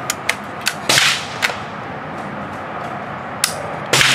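A powder-burning firearm fires several sharp, loud cracks at irregular intervals, some close together and others after longer pauses, over a steady outdoor background.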